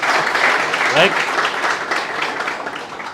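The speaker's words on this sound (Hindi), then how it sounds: "तालियां हैं।" An audience applauds during an interview about a merchant navy career, a dense burst of clapping that plays under a voice.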